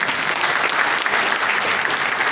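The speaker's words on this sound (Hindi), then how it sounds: "तालियां बजाओ तो जोर से बजाओ।" Audience applause fills a Lions Club divisional convention hall, dense and steady throughout with no voices over it.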